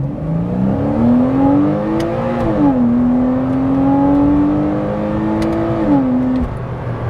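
A Porsche Boxster 987 with the 2.9 litre flat six and PDK dual-clutch gearbox accelerates hard. The loud, steady engine note climbs through the revs with a couple of quick upshifts that make the pitch dip and climb again.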